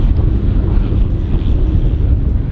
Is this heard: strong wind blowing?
yes